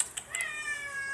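A house cat meows a few short, high, faint calls in quick succession in a quiet room.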